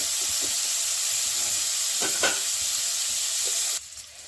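Parboiled cauliflower with turmeric frying in a pan gives a steady, close sizzle with a few soft stirring scrapes, then drops off sharply near the end.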